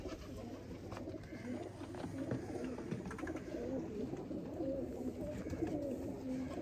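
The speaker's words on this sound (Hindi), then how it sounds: "इधर आओ भाई देखो दोस्तों यह एक लाड़ा और एक चैंपियन दोस्तों सियालकोटी कबूतर।" Sialkoti pigeons cooing in a loft, soft repeated throaty coos close by over faint background noise and a low hum.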